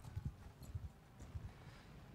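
Horses in the medieval combat game Mount & Blade II: Bannerlord, a few soft low hoof thuds in an uneven clip-clop, faint and distant over quiet game ambience.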